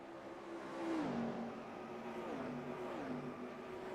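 A sim race car in NASCAR Racing 2003 spins out, its engine whining steadily and then dropping sharply in pitch, with a continuous loud engine drone and a second rise-and-fall sweep later.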